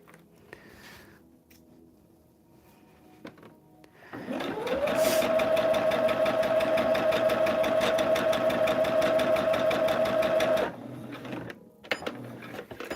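A sewing machine stitching a Dahlia Magic table topper runs in one continuous burst of about six seconds, a fast, even, close mechanical whir and clatter, with quiet handling noises before and after.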